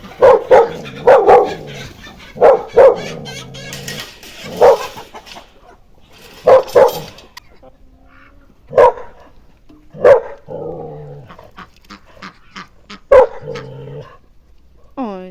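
A dog in a rural village yard barking repeatedly, loud and close, with sharp barks in bursts and quieter whimpering and growly sounds between them.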